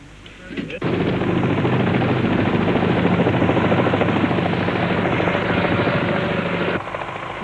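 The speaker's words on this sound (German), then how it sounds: "Der Helikopter hat nahe der Brandstelle einen Landeplatz gefunden." A firefighting helicopter's rotor chops loudly and steadily for several seconds near a fire site, a dense rapid thudding that cuts off abruptly near the end, with a voice faintly underneath.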